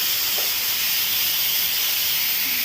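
Fish frying in a pan for an Assamese fish curry gives a steady, even hiss of sizzling oil that stays close and unbroken throughout, with no talk over it.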